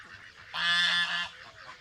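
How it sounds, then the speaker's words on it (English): An angry goose gives one loud, close, drawn-out honk lasting under a second, standing out alone against quiet farmyard background. "We have our one angry goose."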